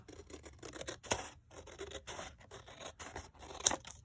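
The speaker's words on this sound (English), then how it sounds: "let's just cut it down here" Scissors cut through material for a handmade necktie journal, a close, continuous run of rasping, scratchy snips and rubbing strokes with short pauses between.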